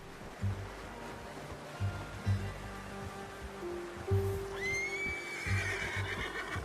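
A horse whinnies loudly in Red Dead Redemption 2 with a rising, quavering cry over steady low hoofbeats and a rushing, surf-like background.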